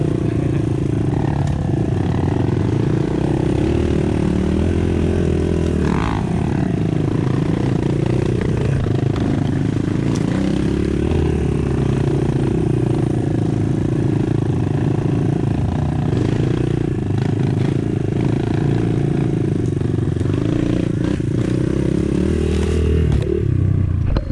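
An enduro motorcycle engine drones and revs continuously while being ridden on an enduro trail event, loud and close, with clattering and scraping mixed into the steady mid-pitched engine note.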